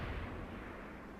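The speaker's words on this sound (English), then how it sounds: "Oh no, not Majima, just got shot out with cannons." Cannons fire in the samurai-era video game Yakuza Ishin, a loud, dense burst of booming blasts that fades into a sustained rumbling roar with no voices.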